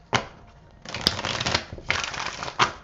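A deck of tarot cards is shuffled close by in quick riffling bursts: a brief flick, a pause, then two longer rustling runs ending in a sharp snap.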